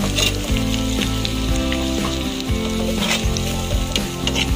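Sweet potato frying in a pan for a Filipino ginisang jute mallow dish, a loud continuous sizzle with stirring scrapes, alongside a strong low tonal hum throughout and no talking.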